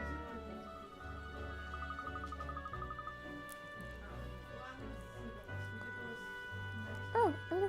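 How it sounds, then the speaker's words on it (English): A cat meows in the Layton's Mystery Journey: Katrielle and the Millionaire's Conspiracy video game, a short rising-and-falling cry near the end over steady game music, with people talking earlier. "Oh, a little cat."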